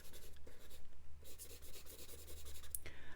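Charcoal pencil scratching steadily across drawing paper while shading eggs, a close, continuous dry rasp with brief pauses between strokes.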